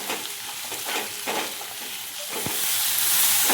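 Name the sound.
roasting ginger, garlic and cashews in a pan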